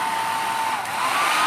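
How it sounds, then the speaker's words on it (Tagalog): An electric blower roars steadily, blasting air to dry out the inside of a submerged engine, a loud continuous hiss with a faint whine and no talk. "Blower na natin mga bok."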